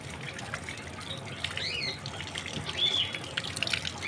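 Water runs steadily from a tap as mangoes are washed outdoors, a soft continuous splashing flow with faint birdsong chirping in the background.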